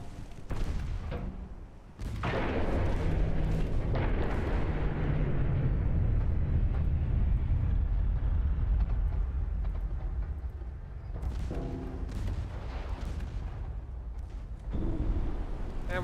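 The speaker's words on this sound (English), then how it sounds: "And we got him with a torpedo for good measures." Torpedo striking a ship in Ultimate Admiral Dreadnoughts, a sudden heavy blast followed by a long, loud rumbling roar of explosion and water, then a few fainter booms trailing off.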